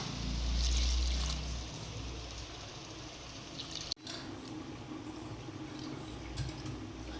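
Water poured into a cooking pot in a home kitchen, a steady close gush that swells early then settles into a softer trickle, with no talking.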